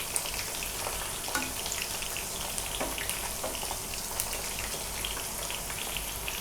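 Chicken pieces deep-frying in oil for orange chicken, a dense, even crackling sizzle like rain on a surface, steady and close with occasional faint clicks, no talking.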